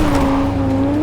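Car driving in Cyberpunk 2077, a steady engine drone holding one tone throughout, loud and continuous, with a faint rumble of road noise underneath and no speech.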